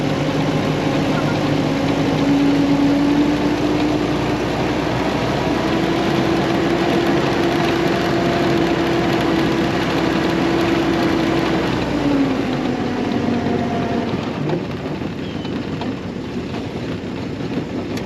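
A historic Ford Willys Jeep engine idles in a steady, loud, close drone with a low hum throughout, easing off slightly near the end.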